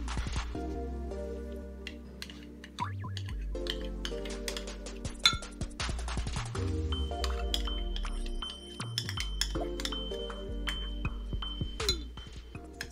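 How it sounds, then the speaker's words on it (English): A utensil stirs hand sanitizer ingredients in a glass container, producing continuous clinking and tinkling against the glass with liquid swishing, close and steady for several seconds without voices. "Stir well, until all blended together."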